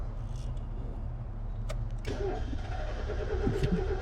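A 1990 Mazda Miata engine cranks without catching, a low whirring starter drone with clicks and a short rattle, faint and steady with no talk.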